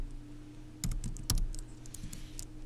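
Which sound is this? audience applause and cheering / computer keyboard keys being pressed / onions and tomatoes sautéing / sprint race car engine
computer keyboard keys being pressed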